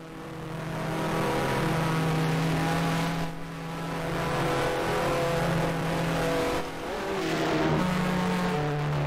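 Race car engine in the Grand Prix 2 video game with a 1990 season mod, droning steadily at high revs with harmonic whine, briefly dipping twice as the car slows and then picks up again, loud and close.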